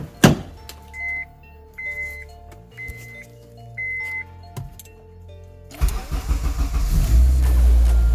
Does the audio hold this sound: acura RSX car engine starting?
yes